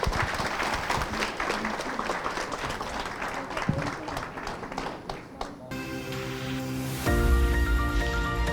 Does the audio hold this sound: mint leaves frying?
no